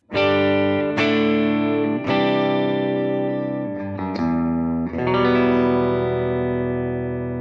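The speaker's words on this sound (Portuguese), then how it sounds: "Eu vou começar, obviamente, com o meu som de guitarra limpo." A clean electric guitar plays a few sustained chords through a Ruby amplifier, each strum ringing out fully, close and fairly loud with no voices.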